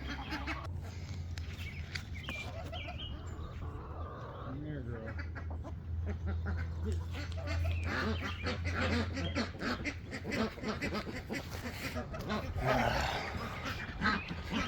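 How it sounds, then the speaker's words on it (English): Ducks in a duck pen quack in alarm at nearby chickens in a busy, noisy farmyard, mixed with other fowl calls and a steady background rumble, fairly faint overall. "the ducks, they're so loud, and they're scared of the chickens, so they make a lot of noise."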